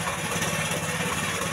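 A small petrol engine on a rice transplanter, hard to start and running unevenly while its carburetor is adjusted, idles steadily with a low, pulsing throb that continues without pause. No one speaks.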